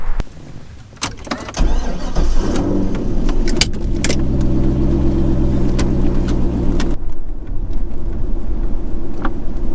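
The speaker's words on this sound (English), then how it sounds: "let's take it for a little spin around the block." Keys jangle, then a car's LS6 engine cranks and starts, settling into a loud rumbling idle before revving and fading as it pulls away.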